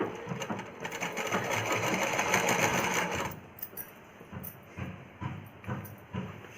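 A sewing machine runs in a fast, steady whirring burst while stitching a child's umbrella frock, then slows into softer, intermittent stitching and handling noises, close up with no talk.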